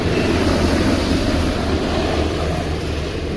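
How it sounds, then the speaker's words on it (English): A loud, steady low rumble of a helicopter passing overhead, a continuous droning roar that fades slightly toward the end. "That was a helicopter."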